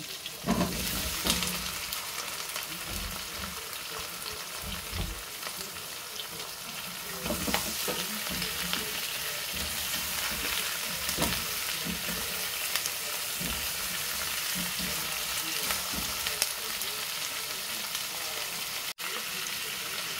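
Chicken adobo fries in a pan with a steady, dense sizzle throughout, broken by brief stirring scrapes.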